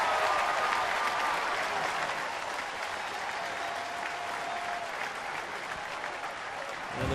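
A crowd of about 19,500 at a Pittsburgh Pirates baseball game on a Wednesday afternoon cheers and applauds steadily throughout, a dense, distant roar of clapping with a faint stadium tone in the background.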